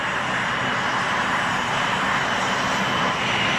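An A-10 Thunderbolt Warthog jet aircraft's engines roar in a steady, loud, broadband drone that holds constant throughout, with no voices.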